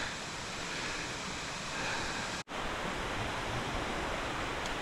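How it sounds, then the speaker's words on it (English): Beaver Brook, a mountain stream beside the trail on Mount Moosilauke, rushes in a steady, loud broadband wash with a brief break partway through. "That to our left must be Beaver Brook"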